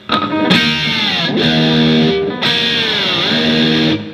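Distorted electric guitar riff repeated twice, with Floyd Rose whammy bar dives bending the pitch down between sustained, loud chords.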